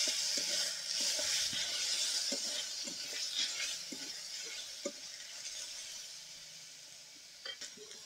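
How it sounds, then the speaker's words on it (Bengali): Ginger-garlic paste fries with onions and spices in a pan, sizzling steadily while a spoon stirs and clinks against the pan now and then. The sizzle softens gradually toward the end. "এবার দিয়ে দিব আদা রসুন বাটা। ভালো করে ভেজে নেব যতক্ষণ না কাঁচা গন্ধটা চলে যাচ্ছে।"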